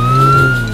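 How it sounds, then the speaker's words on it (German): A police car siren sounds loud and close as a steady sustained tone, heard alone. "Seht, Kinder, das ist ein Polizeiauto."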